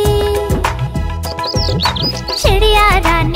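Bird chirping within a Hindi nursery rhyme, quick bright tweets rising and sliding in pitch over a loud, busy musical backing with sustained notes and a steady beat.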